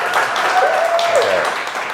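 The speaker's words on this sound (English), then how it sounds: "can we get a warm-up round of applause from the audience" A warm-up round of applause from an audience at a startup talk, dense steady clapping filling the whole two seconds at close range, with a faint tonal whistle or voice-like line drifting through the middle.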